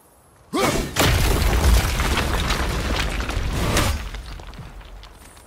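Thor's statue in the God of War video game crashing down: a sudden deep boom, then a long heavy rumble of shattering stone and debris that lasts several seconds before fading.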